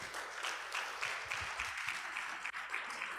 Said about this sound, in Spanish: Denle un aplauso por todos los que están sintonizados en Facebook.